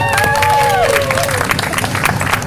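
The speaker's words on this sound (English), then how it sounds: "all of these champions of Morgan deserve our round of applause" Audience applause and cheering at a gymnasium grand reopening ceremony, a loud, steady crowd clapping throughout with whistles and shouts rising above it.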